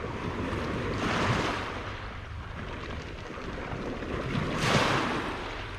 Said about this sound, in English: The waves have slowed down a bit.